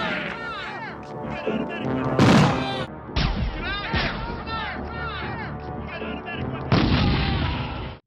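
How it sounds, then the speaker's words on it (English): Remixed movie gunfire from The Terminator with modern replacement gun effects, heavy bursts of shots and booms over a busy mixed soundtrack with music and voices, several loud impacts standing out. "replacing many of the old stock gun sounds with new modern ones"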